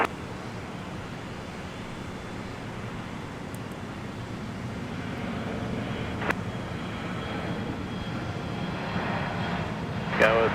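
A Boeing 737 airliner taxis past on an airport taxiway, a steady jet engine roar that swells slowly and stays loud throughout, with a few faint clicks and crackles over the top.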